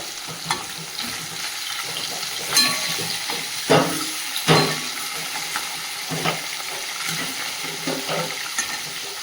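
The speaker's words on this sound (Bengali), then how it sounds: "মাছটা লাল লাল করে ভেজে নিয়ে তুলে নেব।" Small thin fish fry in hot oil in a pan with a steady close sizzle, broken by a few louder spatters and pops, with no voices.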